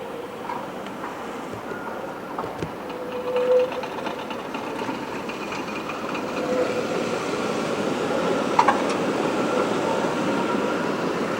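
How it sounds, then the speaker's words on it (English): Brussels trams at Midi station, one terminating and another turning left around a corner, rumble and squeal on the rails, with a low steady drone, scattered metallic clanks and a brief bright screech near the end. "Tram on the right's terminating. The one on the left's going around the corner to the left."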